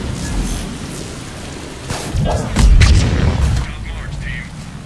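Grenades detonating in Mass Effect 3 multiplayer combat, several heavy booms in quick succession with the loudest blast mid-way, over continuous battle noise and talking.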